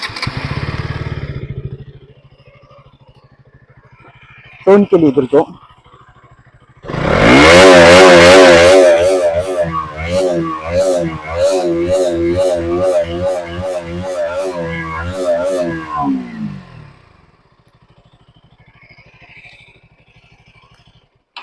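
KTM Duke 200 motorcycle engine revved hard in repeated sharp bursts, loud and close, climbing and falling before settling back to idle, with a brief spoken word just before the revving.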